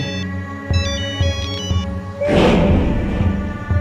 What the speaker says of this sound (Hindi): किसका फोन आ लिया?